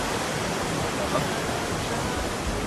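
A mountain stream runs beside a hiking trail on the climb from Tatu Village to Fairy Meadows: a steady, dense rush of water, close and even throughout, with no breaks.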